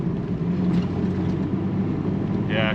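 A Jeep engine drones low and steady while accelerating up a snowy hill in the BC mountains, a close, continuous rumble with a brief higher whine near the end.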